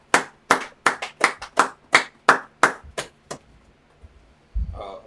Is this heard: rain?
no